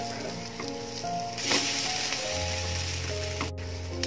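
Bread snack frying in a pan just after being flipped, giving a steady, close sizzle that carries on unbroken with small crackles and no talking.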